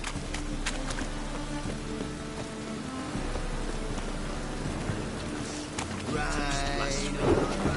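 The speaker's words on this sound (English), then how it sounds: "Rain again." Rain pours steadily in The Witcher 3 on the streets of Novigrad, a continuous hiss with faint clip-clop and other game sounds mixed in, and a voice cuts in near the end.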